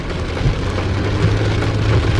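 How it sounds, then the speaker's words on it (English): Steady rain pours down outdoors in a continuous, even wash of noise with a low hum running underneath, at fairly close range. "It's raining."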